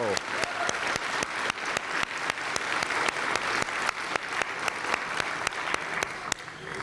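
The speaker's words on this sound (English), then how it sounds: "Let's give the Tamir Choir another big round of applause" Audience at an Ottawa City Council meeting applauding a choir after a performance, a steady dense wash of many hands clapping with a few sharper claps standing out, sustained and fairly close throughout.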